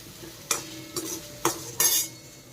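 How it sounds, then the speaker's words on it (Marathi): Several distinct scraping strokes of a spatula roasting dry spices with coconut, garlic and ginger in an iron wok, uneven rhythm over a faint background hiss. "लोखंडाच्या कढईतच मी मसाला जो आहे तो भाजत असते"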